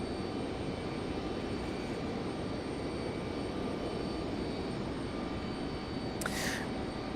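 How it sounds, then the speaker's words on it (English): An American airliner jet departs RDU Raleigh Durham International airport, a steady broad engine roar that stays fairly distant and constant from start to finish, with no talk. "We do have another American heading out for departure."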